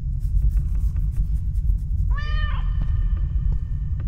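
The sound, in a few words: cat meowing in a horror video game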